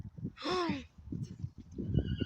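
A muddy mare gives one loud, close whinny that rises and trembles before falling off. It is surrounded by French-speaking voices and a little handling noise on a pony pasture.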